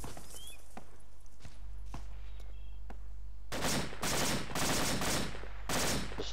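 Bursts of suppressing automatic gunfire in JSF10 training, loud and close: several rapid volleys in a row following a few scattered single shots over a steady background hum.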